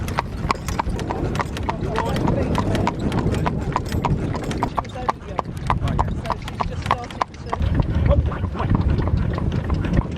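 Cob horse pulling a cart at the Gap of Dunloe in Ireland, its hooves clip-clopping in a steady, even rhythm, close and loud, with people talking throughout.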